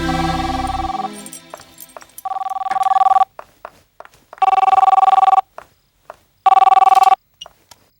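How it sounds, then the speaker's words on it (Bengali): An old-style telephone bell rings in several separate bursts with short silences between them, loud and close. "এখন আবার কে ফোন করছে"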